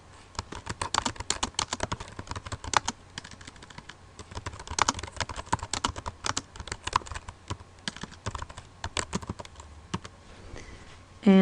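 Fingers tap quickly and irregularly on a computer keyboard, a long run of soft, close clicks in bursts and pauses with no one talking.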